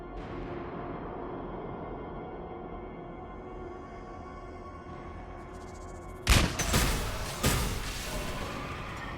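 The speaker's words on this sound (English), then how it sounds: "Gunfire. They are near." Gunfire in the video game Mass Effect 3: after several seconds of low rumbling ambience, two sharp, loud shots crack out about a second apart.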